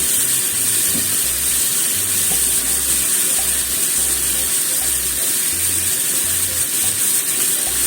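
Burdock being stir-fried with a spoonful of mirin in a pan gives a steady, close hissing sizzle that runs evenly throughout, with no talking.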